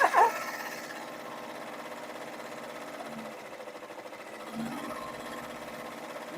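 An embroidery machine stitches an awareness ribbon angel design with a continuous, fairly quiet mechanical hum and fast needle rhythm, running alone without talk.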